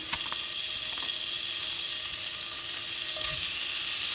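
Meat sautés in oil seasoned with Cajun blackened seasoning for a Popeyes-style copycat dish, giving a dense, steady, close sizzle with faint scattered pops throughout.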